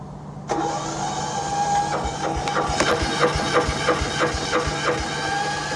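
A small engine turns over and catches after a pressure release, settling into a steady mid-pitched idle with a regular ticking pulse, close and fairly loud, at a Georgian house renovation.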